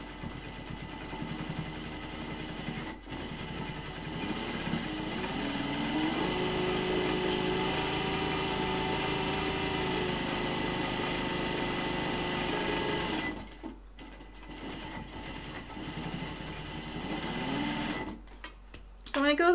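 A binding sewing machine runs steadily while stitching T-shirt fabric face masks, a continuous whirring drone for most of the stretch that stops briefly twice near the end, with voices talking over it.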